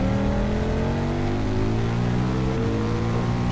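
A KTM 1190 RC8 R motorcycle on a race circuit, its engine droning loud and close with a steady high-revving tone that climbs and dips through a gear change partway through.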